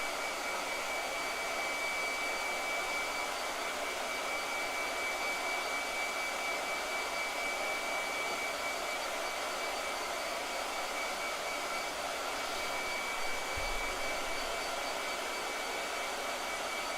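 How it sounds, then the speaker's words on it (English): A blow dryer running in a home painting space, a steady close whooshing hum with a faint high whine, unbroken for the whole stretch. "Blow dryer."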